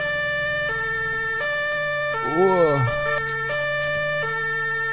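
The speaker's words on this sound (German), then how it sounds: "Mach die Sirene aus." A police car siren in the video game Arma 3, Altis Life mode, cycles steadily through stepped two-tone wails, loud and continuous, while a voice briefly speaks over it midway.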